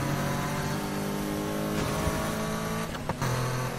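Car engine revving and accelerating in Need for Speed Heat, a BMW M3, a loud sustained mid-pitched roar that holds steady, briefly dips as if shifting, then pulls on again, with no talk over it.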